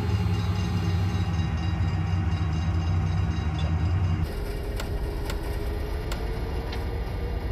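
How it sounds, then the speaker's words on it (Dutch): Heavy oil freight train in a train simulator game rumbling steadily along the rails, a loud continuous low drone with a brief shift partway through and faint clicks over the top. "Wat een zware trein heb ik, serieus."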